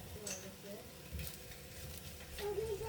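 Shiitake mushrooms stir-fry in oil in a pan, giving a steady close sizzle with soft stirring scrapes throughout and no talking.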